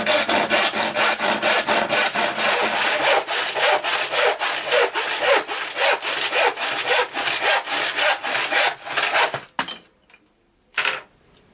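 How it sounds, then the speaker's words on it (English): A handsaw cuts through a wood plank in quick, rhythmic back-and-forth strokes for about nine seconds, then stops, followed by one last short stroke. "let's give it a go, see what it's like for sawing."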